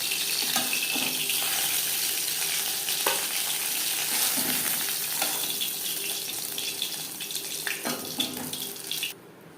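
Shing fish frying lightly in hot oil in a pan, a steady broadband sizzle with small crackles and pops running the whole time, loud and close, with no voices.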